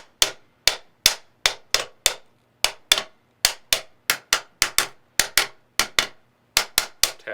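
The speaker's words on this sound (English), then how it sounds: "Tap it into place." Hot tub pump stator for an Aqua-Flo spa pump being tapped into place during a bearing replacement, a rapid series of about twenty sharp, close metallic knocks in an uneven rhythm, each decaying quickly, with no talking.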